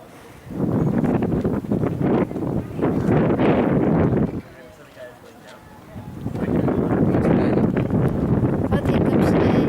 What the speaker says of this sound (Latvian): Patīkams vējielis šeit.